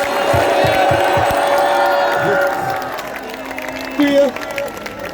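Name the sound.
crowd clapping and cheering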